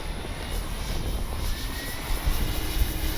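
A radio-controlled F4U Corsair warbird scale model plane dives overhead, its engine a steady, fairly loud drone that swells slightly toward the end, heard alone without talk.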